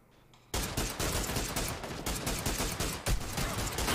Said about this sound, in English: Oh, I'm getting shot from the back somewhere.